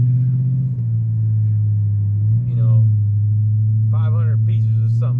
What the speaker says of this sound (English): The exhaust is kind of loud in this car.